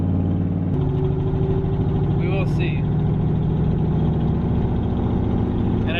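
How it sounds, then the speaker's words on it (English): A street truck engine idles with a steady, slightly uneven low rumble and a ticking pulse from an exhaust leak at the driver's side manifold, close and loud under a brief spoken phrase. "But the truck definitely seemed to start a little bit rougher, you know what I mean? After that change."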